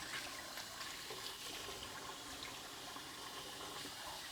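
Water runs steadily from a tap while a waffle maker is rinsed in a kitchen sink, a continuous hissing splash that stays even and fairly soft throughout, with no voices.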